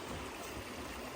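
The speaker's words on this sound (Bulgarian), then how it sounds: "Даже се чува реката." A river flows with a continuous, even rush of water, a faint steady hiss that stays unbroken for the short moment.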